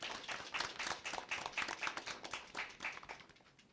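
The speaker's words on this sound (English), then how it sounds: "Please give them a round of applause." Applause at a secondary school debate, a modest crowd of hands clapping in quick, uneven bursts, moderately close, then thinning and fading out toward the end.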